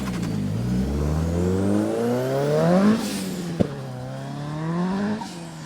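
A 400 bhp rear-wheel-drive Ford Fiesta RS launches on a track, its engine revving hard and climbing through the gears with tyre squeal, pitch rising in sweeps before a sharp shift and further pulls, loud and close.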